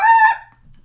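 Person imitating a bird call: one short, near, tonal squawk that bends downward and ends in under half a second.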